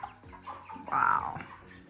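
A close chicken on a family farm in the Azores gives a loud clucking squawk partway through, surrounded by softer peeps and clucks from the flock, which includes young chicks.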